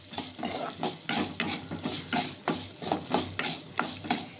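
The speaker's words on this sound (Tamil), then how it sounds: "அதை போட்டு இதையும் நல்லா வதக்கிக்கலாங்க." Chopped onion sautéing in a pan with a soft sizzle beneath quick, rhythmic scraping and clinking of a utensil stirring against the pan, close and repeated.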